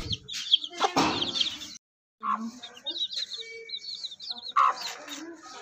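Baby chicks and a hen at home, with high thin peeping chirps and a few lower clucks scattered close by, alongside a talking voice.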